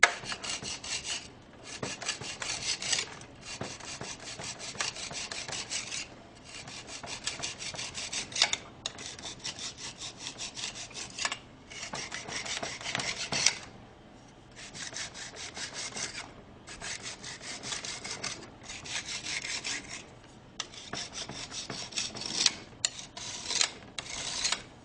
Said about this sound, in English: Take your straight edge, this is why you need a strong one, and you're going to level off the top of the mold